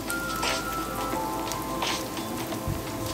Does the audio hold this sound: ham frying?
yes